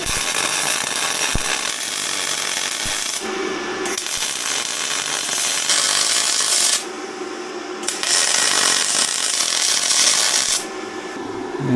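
An ARCCAPTAIN spool gun welding thick aluminum, giving a loud continuous crackling hiss in long runs separated by short pauses between beads.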